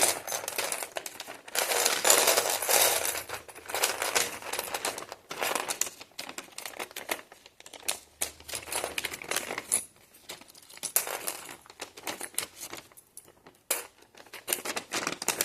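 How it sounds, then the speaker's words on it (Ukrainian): Small plastic LEGO pieces from a Tropical Toucan 30688 set tumble and clatter out of a bag in a dense, continuous rattle, loud at first then thinning into scattered clicks and shuffles near the end. "Висипаємо всі детальки лего."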